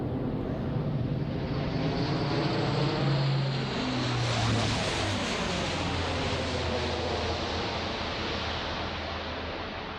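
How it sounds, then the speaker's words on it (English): A Lockheed Hercules C-130J turboprop transport with Allison engines and six-bladed composite propellers drones steadily and loudly overhead, a broad roaring wash with a low propeller hum that barely changes through the whole stretch. "The Hercules C-130J is fitted with new Allison turboprop engines, 6-bladed composite propellers, and a full authority digital engine control."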